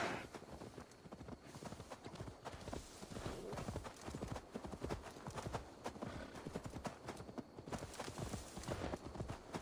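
Steady clip-clop of horse hooves trotting in Assassin's Creed Valhalla at a quick, even rhythm, close and continuous, with a faint game soundscape underneath.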